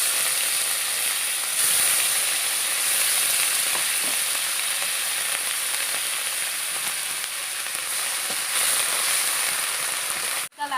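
Onion and garlic paste, made with two large onions, frying in hot oil: a steady, loud sizzle with a crackling hiss that carries on without a break, alone and with no voices.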